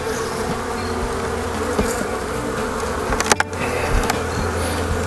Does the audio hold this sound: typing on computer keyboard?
no